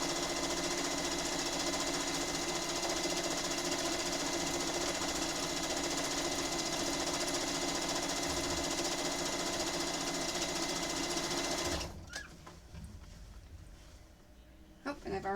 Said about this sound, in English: I'm sewing a 1/4" seam.